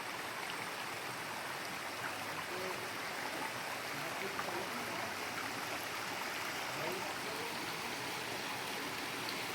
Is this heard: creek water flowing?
yes